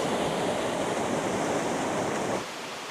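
A river flows in a steady broadband rush, loud and close, that drops suddenly to a lower, quieter wash near the end, with no voices present.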